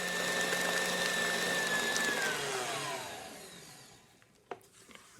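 Electric mixer beating eggs into donut loaf batter, a steady whirring drone that slowly winds down and stops, followed by a few light clinks and taps near the end.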